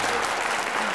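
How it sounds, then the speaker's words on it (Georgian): Studio audience applauding after the first round of a televised book-themed quiz game, a dense, steady burst of clapping lasting about a second. "აპლოდისმენტები პირველივე თამაშში"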